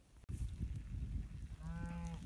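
A Charolais cow moos once in an outdoor pasture, a short tonal low call near the end, heard over steady wind and field noise.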